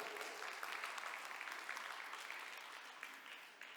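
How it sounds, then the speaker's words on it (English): A steady burst of audience applause at a storyteller conference in Haikou, dense clapping from a crowd that stays loud throughout and tapers slightly near the end. "Give a big round of applause to Kason."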